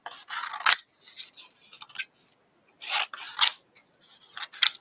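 Scissors cut a paper sentiment out for a Christmas card, making crisp close snips in short bursts with brief pauses between them.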